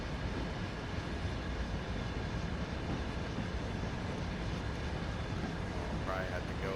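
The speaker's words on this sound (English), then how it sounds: "Man, that is a massive train." A massive loaded mixed freight train carrying pipe and diesel in Train Sim World 5, arriving at San Bernardino yard, gives a quiet, continuous rumble that holds steady throughout.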